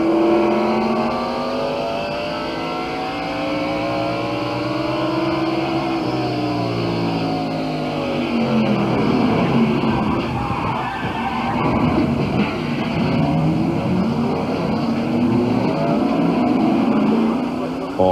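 Loud engine roar of NASCAR race cars accelerating and revving on track at the 1992 First Union 400, pitch sweeping up and down continuously, with a steady hum beneath throughout.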